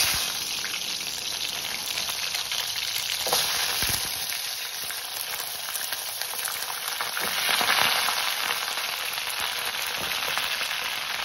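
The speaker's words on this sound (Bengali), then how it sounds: "তেলের মধ্যে এই আস্ত গরম মশলাগুলো আমি নাড়াচাড়া করব" Whole garam masala spices frying in hot oil for a crab curry, a loud continuous close sizzle with faint stirring scrapes and no talking.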